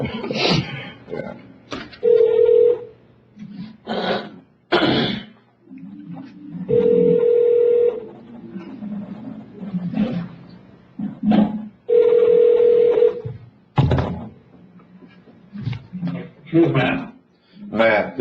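A phone call rings out over a speakerphone at a county commissioners court meeting. Steady ringback tones repeat roughly every five seconds, with voices talking around and between them.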